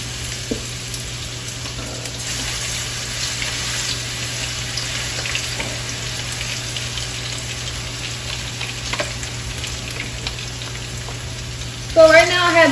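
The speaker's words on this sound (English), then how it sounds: "right now the oil is already heated up, so I'm gonna start placing the pork chops in there" Pork chops frying in hot oil in a pan, a steady, loud, close sizzle that runs unbroken throughout, with a brief clatter near the end.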